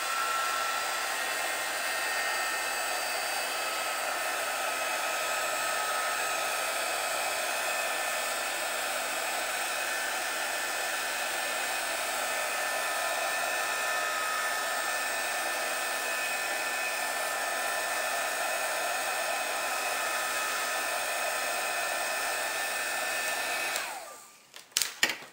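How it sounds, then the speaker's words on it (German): An embossing heat gun blows steadily for more than twenty seconds while drying sprayed Color Wash paint on a background. The whir is loud, continuous and unbroken, then it cuts off abruptly near the end with a couple of clicks. "unserem Embossing-Föhn."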